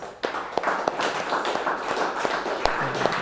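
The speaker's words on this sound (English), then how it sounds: "a round of applause for Matt" Conference audience applause, light scattered clapping from a modest crowd in a hall, steady and moderately close for a few seconds.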